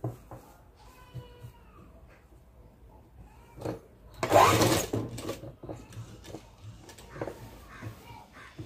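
A sewing machine stitches the sleeves of a boat-neck long frock in short runs, with one louder buzzing burst midway among soft handling noises and quieter gaps, close to the listener.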